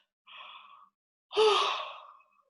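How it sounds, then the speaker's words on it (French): A deep breath taken through a wide-open mouth to bring on a yawn: a short airy inhale, a pause, then a longer, louder breathy sigh, close and alone. "vous allez prendre une grande inspiration, d'ouvrir grand la bouche"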